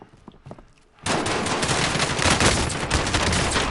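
Intense automatic gunfire in Call of Duty Warzone erupts after a second of quieter scattered shots, then continues as a loud, dense, nearby barrage to the end.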